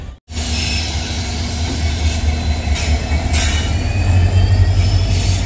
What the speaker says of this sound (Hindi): ये चला लोको अपने रिवर्सल के लिए